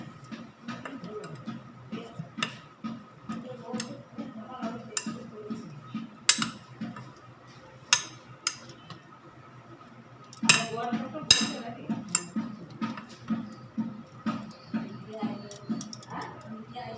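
Cauliflower florets and potato pieces are tossed and mixed with whole spices in a pan, with light clinks and taps of a utensil against the metal running under steady, close-up talk.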